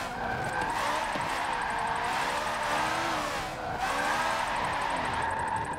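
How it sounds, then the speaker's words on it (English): A limousine in the racing game Forza 7 drifts and spins out, its engine droning steadily with continuous tire squeal at moderate volume. "somehow I managed to actually spin out in it"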